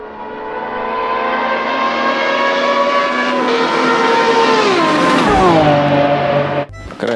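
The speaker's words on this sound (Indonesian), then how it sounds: "Di sini ada mobil balap." A toy race car plays a loud, close engine sound effect: a continuous motor whine that climbs in pitch like revving acceleration, then cuts off abruptly near the end.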